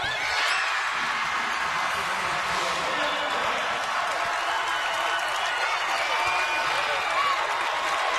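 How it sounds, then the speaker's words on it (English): A basketball crowd in the McHale Center at a Stanford at Arizona women's game cheers and applauds in a loud, sustained roar, with constant clapping and shouting and a commentator's voice running underneath. "The crowd in the McHale Center enjoying it."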